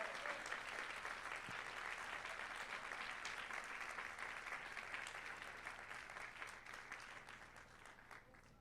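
A church congregation claps in sustained, dense applause for the Lord during a Spanish-language sermon; the clapping is steady and full throughout, tapering slightly toward the end, with no voices over it.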